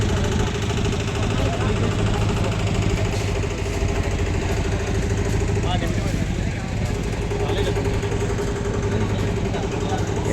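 A farm fodder-handling machine runs at an agricultural exhibition in Pune, its engine giving a steady, dense mechanical drone from start to finish while someone talks over it.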